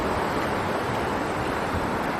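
Waves wash along Four Mile Beach at Port Douglas, Australia, a dense continuous hiss of surf mixed with wind buffeting, loud and steady throughout with no voices.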